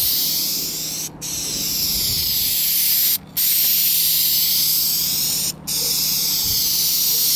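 Aerosol spray paint can coating the side of a car during a touch-up repaint, a steady close hiss running continuously with three brief pauses between passes.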